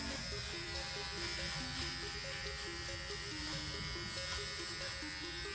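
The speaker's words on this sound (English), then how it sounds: "Then I'm just going to use the trimmer once again" Electric hair trimmer buzzing steadily and close as it tidies hair around the ear at home, a continuous even drone with no pauses.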